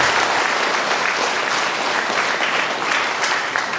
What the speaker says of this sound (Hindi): आइए हम उनका भी जोरदार ताली द्वारा स्वागत करते हैं